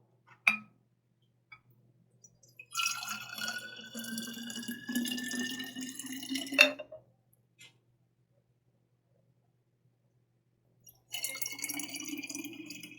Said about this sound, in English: I'm going to put some filtered water in the bottle.